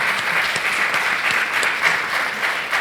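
An audience at a history forum gives a panel a steady round of applause, dense and even throughout, with no voices over it.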